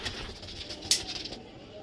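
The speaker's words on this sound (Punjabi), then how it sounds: "ਇਹ ਜੌਂਸਰਿਆਂ ਦੇ ਵਿੱਚੋਂ ਜਨਾਬ ਆ ਟੈਡੀ ਕਬੂਤਰ ਬਣਿਆ ਬੱਚਾ" A young Jonsra pigeon of the teddy type coos softly. The faint cooing sits under a steady background hiss, with a brief sharp click midway.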